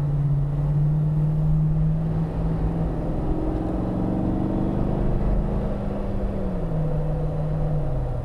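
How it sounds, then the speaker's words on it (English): Steady low engine hum and cabin rumble inside a car idling in traffic, with a faint tone drifting slowly in pitch; continuous and fairly loud, no talking. "So I'm just sitting here in traffic"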